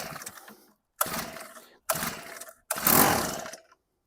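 A Honda WX-10 water pump engine starved of fuel in the carburettor fires in three or four short sputtering bursts, each one cutting out into silence before the motor dies. The bursts are close and fairly loud, and no one talks.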